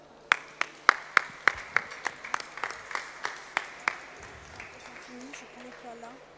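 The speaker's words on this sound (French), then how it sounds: "Ils le font ici pour vous, donc je pense qu'il faut les applaudir." A food show audience in Nice applauding chefs after a demonstration: about a dozen sharp, sparse claps in a loose rhythm that thin out and fade, followed by a brief bit of talk near the end.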